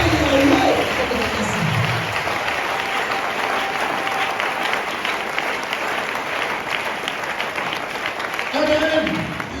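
A church congregation applauds steadily for nearly ten seconds, a dense wash of clapping with brief voices calling out at the start and end.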